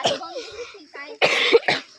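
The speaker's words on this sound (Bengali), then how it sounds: "আমার কাশি হয়ে গেছে।" A person coughs a few times in quick, close bursts, mixed with some voiced throat sounds.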